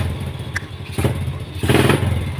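Yamaha Jupiter Z motorcycle engine running with a noisy clutch, giving an uneven idle punctuated by a few clattering bursts and thumps that swell and fade close by.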